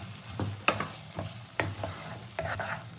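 Spices and fried potatoes sautéed in a pan, with repeated sharp scrapes and clacks of stirring over a steady low sizzle, close and fairly quiet.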